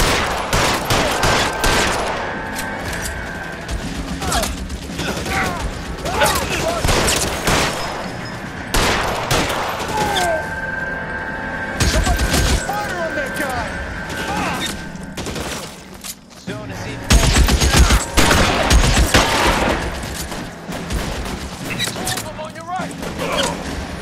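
A shootout in the video game L.A. Noire brings dense bursts of gunfire, rapid cracks and volleys with mechanical clicks, crowding much of the clip. Voices shout over the shooting.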